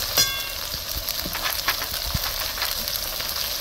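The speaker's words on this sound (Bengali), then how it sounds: "মশলাটাকে আমি খুব ভালো মতো কষিয়ে নেব।" Spice paste sautés in a pan for a jackfruit kofta curry, giving a close, steady crackling sizzle with occasional scrape and stir sounds throughout.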